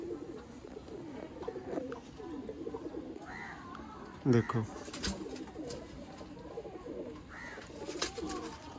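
Red-eyed pigeons cooing in a loft, soft repeated low coos spread across the clip with a short louder burst midway, while someone talks over them.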